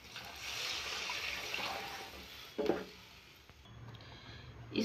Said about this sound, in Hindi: इसमें 1 गिलास पानी डालते हैं।